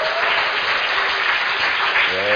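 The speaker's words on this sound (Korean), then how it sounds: "다시 한번 큰 박수 한번 부탁드립니다" Loud, dense applause from a lecture audience after a talk on stopping a nuclear power plant, a close, continuous burst of many hands clapping.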